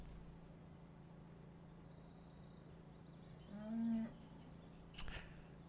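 A cow in Farming Simulator 17 gives a single low moo, quiet against a faint background with soft bird chirps and a brief clack afterward.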